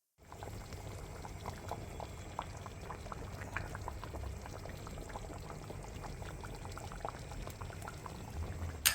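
A red wine meat braise bubbles and simmers steadily in a pot over the lowest heat, at low, even volume, with faint liquid pops and gurgles throughout and no talking.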